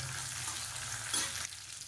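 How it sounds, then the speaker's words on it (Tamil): Urad dal and dried red chillies fry in hot oil for a carrot chutney, making a close, steady crackling sizzle with a brief louder burst near the end and no voices. "உளுந்து லேசாக பொரிய ஆரம்பிக்குது"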